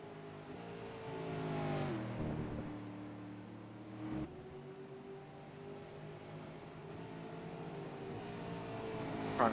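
V8 Supercars race car engines at Brands Hatch during qualifying, a steady loud drone with harmonic engine tones that rise and fall as cars accelerate and pass, continuous across the whole stretch with no talk.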